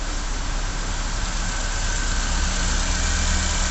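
A Chevrolet Spin engine that will not shut off, still running with the key turned off, a steady, close idling drone with no voices.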